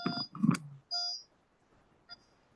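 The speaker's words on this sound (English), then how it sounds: "I can read, but they have this beeping sound." A few short electronic beeps, thin and high-pitched, spaced unevenly after a brief burst of low noise, then quiet.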